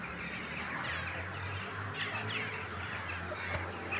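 A flock of crows calling in the open air, harsh caws repeating from several birds at a moderate distance over a steady background hum.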